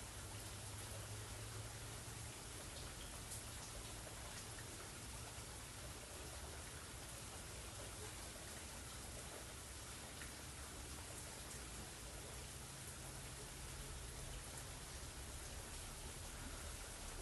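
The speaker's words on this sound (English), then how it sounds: "I hear the rain." Steady rain falls on a rainy day, a dense, even hiss of countless drops on surfaces that continues unbroken and fairly loud throughout, with no voices.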